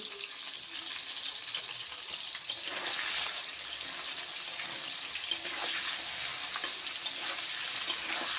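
Paneer cubes fry in hot oil in a wok on low flame, giving a continuous close, even sizzle with occasional faint stirring scrapes and no talking.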